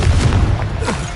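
A Confringo spell in Hogwarts Legacy bursts as a booming, heavy explosion, a dense low rumble with rapid crackling impacts over just over a second.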